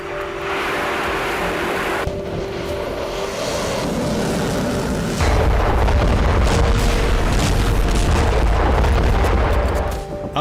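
Missile strikes in Crimea and Berdiansk, Ukraine, in war news footage: a sustained, heavy rumbling roar of blasts and booming explosions that deepens and grows louder halfway through, continuous for about ten seconds with no speech.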